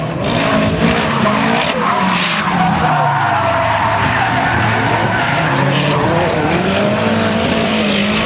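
A drift car spins donuts off the circuit at an Australian drifting grand prix, its tires screeching continuously over a roaring engine, loud and close for the whole stretch.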